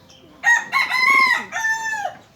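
A rooster crows alone in a loud, clear call with a rising note, a sustained middle and a falling tail, close by and with no talk over it.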